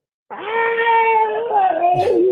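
A human voice imitates a cat meowing as if it were trying to talk, one long wavering, whiny call held for about two seconds, close and loud, ending in a short break.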